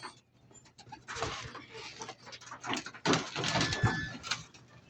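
Hungry female pet pigeons cooing and calling softly, a busy scatter of bird sounds at moderate distance, swelling louder toward the end with no talk over it.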